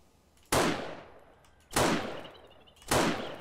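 Three sniper rifle shots in the video game 7 Days to Die, each a loud, sharp crack with a reverberating tail, spaced roughly a second apart.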